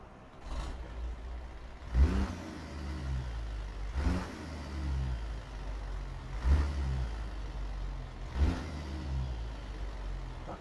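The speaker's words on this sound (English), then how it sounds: "I can't tell much about how it's going to sound by just sitting here revving it up" A truck engine revs up in short bursts roughly every two seconds, dropping back to a rough idle between them, with no one speaking, in American Truck Simulator.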